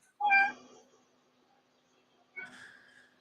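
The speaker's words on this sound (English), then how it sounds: "I hate that cat." A cat meows twice, a loud drawn-out call followed about two seconds later by a shorter, quieter one, each standing alone in a quiet room.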